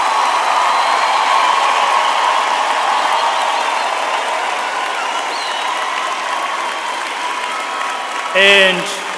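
Graduates at a university autumn humanities graduation ceremony are applauded by a large hall audience, a broad, sustained roar of clapping that stays loud and even throughout, with a short voice-like burst just before the end.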